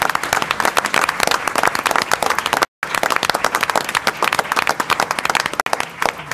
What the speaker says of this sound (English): Let's give them a round of applause for you.